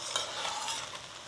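Sabudana khichdi being stirred in a pan, a short, soft scraping and shuffling of the grains with a faint sizzle.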